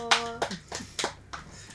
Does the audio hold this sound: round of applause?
yes